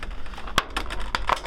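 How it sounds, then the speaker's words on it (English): Plastic clamshell packaging from a Pacific Rim Extinction Otachi Kaiju figure crinkles and clicks as it is handled, with several sharp crackles over soft rustling. "Sorry for the plastic noise."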